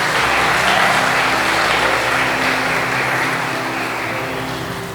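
A church congregation breaks into loud, sustained applause, a thick wash of clapping with a low steady hum underneath that slowly fades toward the end.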